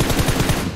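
Rapid automatic gunfire in a Free Fire shooter match, a short, loud, close burst of evenly spaced shots lasting under a second.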